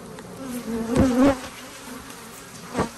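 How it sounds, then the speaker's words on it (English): Honeybees buzzing around an open hive, a soft steady hum with individual bees droning close past in two or three louder swells. "Also full of bees."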